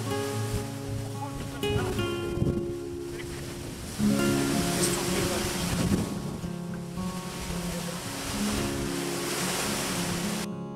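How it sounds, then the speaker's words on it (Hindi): Vasudhara waterfall, falling about 400 feet, roars as a continuous broadband rush of water, blustery and wind-buffeted against the microphone, with a voice speaking intermittently over it. "इतनी ऊंचाई से गिरते हुए पानी का शोर इतना जबरदस्त लगता है कि मैं बता नहीं सकता।"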